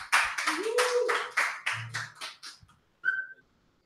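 A few people clap at the end of a Sitecore user group live stream, a short burst of close, uneven claps that tapers off, followed by a brief whistle-like tone.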